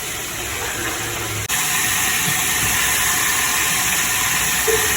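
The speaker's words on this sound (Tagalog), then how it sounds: "Naka-deep fry pala ang gamit ko." Chicken pieces deep frying submerged in hot oil, kanto-style, giving a steady, loud broadband sizzle and hiss that continues without pause after a brief dip near the start, with no talking.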